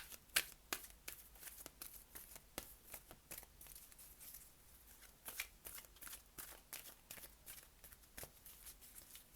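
Angel Answers tarot cards shuffled by hand, quick irregular flicks and riffles of card stock, close and soft, repeating throughout without talk.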